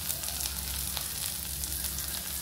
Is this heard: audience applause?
no